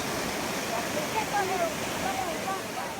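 Steady rushing of falling water, a constant broadband roar of a jungle waterfall in Ha Giang, Vietnam, heard from nearby, with faint higher chirps over it.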